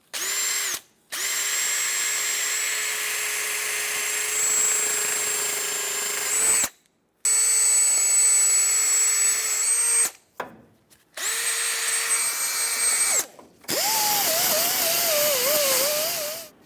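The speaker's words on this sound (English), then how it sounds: "I'm just going to take a wire wheel on a drill and just clean up around it" A wire wheel spun on a power drill scours rust off a 2003-2009 Dodge Ram 2500 front brake hub, a loud steady whine and grinding hiss running in several long bursts with short pauses between, the last burst wavering in pitch.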